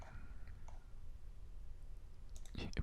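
Keyboard F key pressed during Unreal Engine work, a few soft clicks near the end of a quiet stretch, close and brief over faint background hiss.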